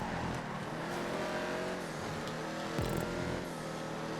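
Race cars roaring in GTA 5 during an overtake on the Sandy Shores track section, featuring Tyrant and Dominator GTX cars, with a continuous engine drone and a short swell as one car passes close by.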